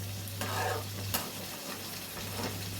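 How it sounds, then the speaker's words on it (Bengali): Egg frying in oil with coriander sizzles softly and steadily in a pan, with a few brief scrapes and stirs of a spatula in a quiet kitchen. "ডিমটা আস্তে আস্তে হয়ে আসছে, যখন তেলটা ছেড়ে যাবে তখন কিন্তু ডিমটা পুরোটাই রেডি হয়ে যাবে।"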